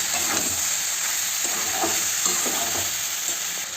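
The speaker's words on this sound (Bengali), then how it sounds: "মশলাটাকে দিয়ে সুন্দরভাবে এভাবে কষিয়ে নিয়েছি" Mixed vegetables stir-fried with cumin paste and ginger paste, giving a loud continuous hiss and sizzle with soft stirring scrapes close by and no talking.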